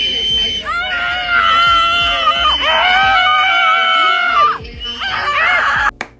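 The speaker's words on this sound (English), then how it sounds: "this lady is yelling in this woman's ear simply because she's wearing a mask in the middle of a no mask wearing protest" A woman screams loudly and at length at close range into someone's ear at an anti-mask protest, long shrill sustained shrieks broken by short pauses, with crowd noise around them.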